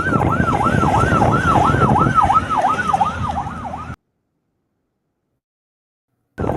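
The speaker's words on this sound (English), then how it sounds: "That ambulance you are seeing there is running actively." A loud wailing ambulance siren sweeps up and down repeatedly, close by, then cuts to silence before briefly returning.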